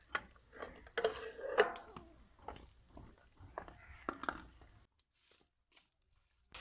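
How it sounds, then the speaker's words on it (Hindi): A quarter kilo of peas goes into frying masala in a kadai and is stirred, giving close, irregular scraping and clinking of spoon on metal with soft sizzle, then falling nearly silent for the last couple of seconds. "मसाले को अच्छे तरीके फ्राई करने के बाद सबसे पहले एक पाव मटर शामिल करेंगे।"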